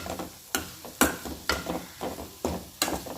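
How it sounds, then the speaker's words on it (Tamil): Brinjal (eggplant) pieces are sautéed with masala in a pan, a spatula scraping and knocking against the metal in sharp, regular strokes about every half second, close and clear over a low sizzle. "அந்த மசாலா கூட சேர்த்து நல்லா வதக்கிக்கணும்."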